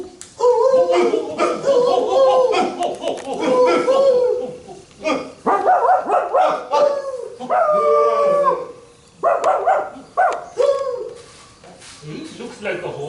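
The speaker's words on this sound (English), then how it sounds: "A pack of wild dogs, catching the scent of boar in the wind," A pack of wild dogs barks, yelps and howls in overlapping bursts that go on almost the whole time, loud and close, with a voice talking at points.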